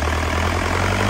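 A Yanmar 4TNV98 turbo diesel engine in original condition runs steadily and loudly up close, giving a continuous low, even hum with no variation and no voices.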